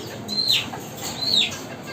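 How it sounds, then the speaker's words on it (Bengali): Two short, high squawking calls from Brahma chickens rise above a quiet farmyard background, about a second apart. "এই মোরগটা খুব এগ্রেসিভ"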